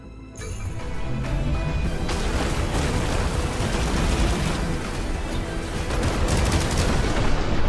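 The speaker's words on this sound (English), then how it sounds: "Buildings are also exploding" Explosions and gunfire from the mech strategy game Phantom Brigade, with buildings blowing apart and a tank being destroyed, form a loud, dense, unbroken barrage of blasts and rattling shots.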